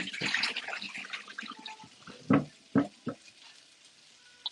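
Cut potatoes dropped into a pot of cold water give a few soft splashes and plunks, close by in a quiet kitchen, with a short rinse of water at the start.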